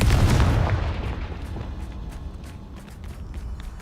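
A Confringo blasting curse explodes in the Hogwarts Legacy video game, a heavy boom that fades into rumbling debris with light scuffling steps afterward.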